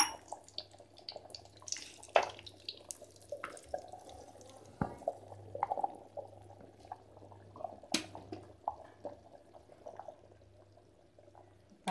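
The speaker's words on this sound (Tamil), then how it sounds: "தாளித்து நம்ம ஊற்றியாச்சு" Hot oil tempering with mustard seeds and curry leaves poured into a tuber curry, a quiet wet drizzle with scattered drips, taps and small sizzles over a low steady hum, with no talking.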